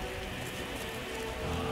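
Rain in the video game Skyrim is a brief, continuous wash of drops on surfaces, steady and moderately loud over a low game background, with no one speaking.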